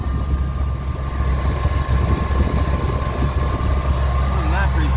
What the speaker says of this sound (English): under the hood we got a V10 with a Kenne Supercharger, custom plenum